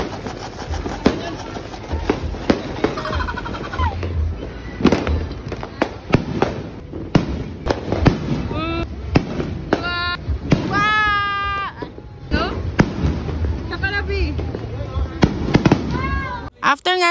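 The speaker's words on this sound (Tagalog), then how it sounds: "After nga naming manood ng fireworks sa labas" New Year fireworks set off outdoors, with irregular bangs and crackles at close to middle distance, mixed with continuous chatter, shouting and celebration noise throughout.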